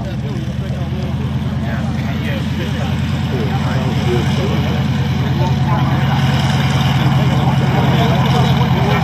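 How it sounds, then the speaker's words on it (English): Large model aircraft with a big propeller, used as a trainer, runs its engine at a loud, steady drone throughout, with a dense low buzzing hum at an outdoor large-model display and background crowd sound. "Look at the size of that prop, and I'm going to let you listen to that engine."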